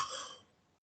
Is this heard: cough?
yes